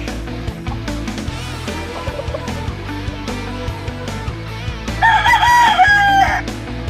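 A young rooster (stag) crows loudly and nearby in a small backyard chicken pen, giving one clear cock-a-doodle-doo near the end over steady background music and scattered clucks.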